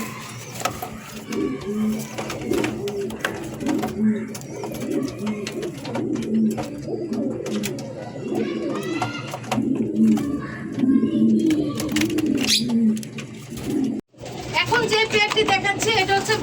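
Several Bombay pigeons coo in repeated low, throaty phrases, close and steady throughout, with a brief pause near the end before the cooing resumes.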